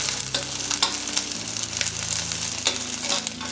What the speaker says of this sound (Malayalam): അപ്പോൾ ഇതുകൂടെ ചേർത്ത് ഒന്ന് വഴറ്റുകയാണ്.